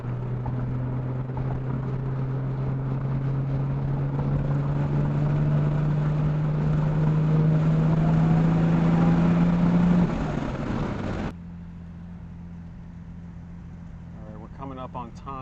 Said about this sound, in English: It has the turbine kind of jet engine sound coupled with this really high-pitched whistle sound that I really like.